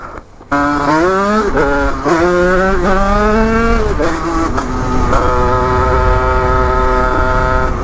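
A Beta EN 86 motorcycle with an alloy frame being ridden, its engine buzzing loudly and close, pitch climbing through several quick rev-ups and gear changes before holding a steady drone.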